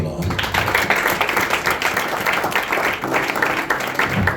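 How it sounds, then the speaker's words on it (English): A church congregation claps together as an offering to the Lord, a lively, uneven burst of hand claps with some tapping and voices mixed in throughout. "Can we give a clap offering to the Lord?"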